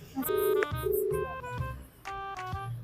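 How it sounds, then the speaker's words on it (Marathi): A phone rings through its speaker with a repeating melodic ringtone, several bright tonal phrases separated by short pauses, loud and close. "ओके, स्पीकरला फोन करा"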